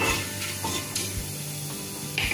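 Bay leaves sizzle briefly in hot oil in a pan for rajma masala. A soft, steady crackle runs under a few light scrapes and clinks of a spoon against the pan.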